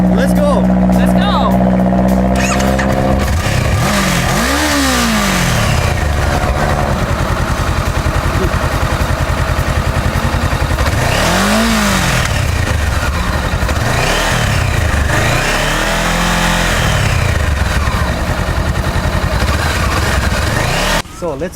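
A motorcycle engine fires up and revs repeatedly, rising and falling in several swooping pulls over a steady idle. It sounds loud and close, and a voice talks over it at times.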